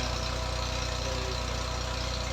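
An old-model Massey 240 tractor engine runs steadily while driving a tubewell turbine, a loud, even idle with a regular low-pitched thrumming pulse and no pauses.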